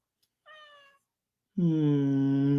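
A cat meows twice, first a short, softer call and then a longer, louder, drawn-out meow, close by.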